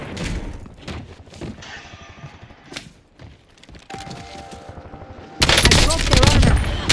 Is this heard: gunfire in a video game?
yes